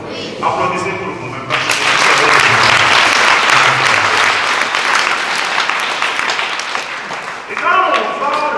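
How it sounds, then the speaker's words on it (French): Congregation applauding during a church gathering, a loud sustained wave of clapping that rises after a man's speech and continues for several seconds before he resumes talking. "Applaudissez pour vous-même."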